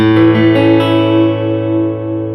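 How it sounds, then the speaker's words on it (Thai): A Takamine PT106 acoustic guitar played through an amplifier rings out with a few quick plucked notes, then a sustained chord slowly fades, warm and full, with nobody speaking. "อันนี้เป็นเสียงที่ผมเล่นผ่านตู้แอม"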